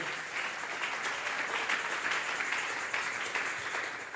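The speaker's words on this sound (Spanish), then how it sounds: "Vamos a darle una ofrenda de palmas a Dios en esta hora" A church youth service congregation claps together in worship, a steady wash of many hands applauding at moderate distance for about four seconds, without anyone speaking over it.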